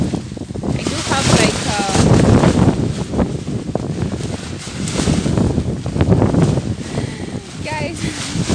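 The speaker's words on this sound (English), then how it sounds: "it's so windy." Strong gusty wind buffets a microphone outdoors in an autumn garden beside a lean-to greenhouse, a loud continuous low roar that swells and dips throughout, with a person talking under it.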